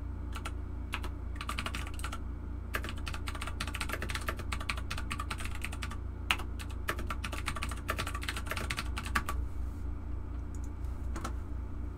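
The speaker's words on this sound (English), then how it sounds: "Clickety clacks, dudes." Steady clickety-clack of computer keyboard typing, bursts of rapid keystrokes with short pauses, close and moderately loud over a low steady room hum, no talking.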